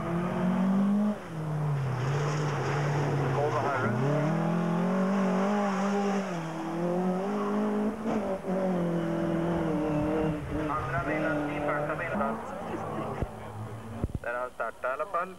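A 1993 rally car on the Hallstabacken track, its engine revving and climbing through the gears in long rising surges that fade and swell again, loud throughout under steady commentary.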